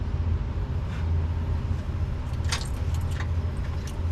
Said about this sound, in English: Good thing I got the keys right here.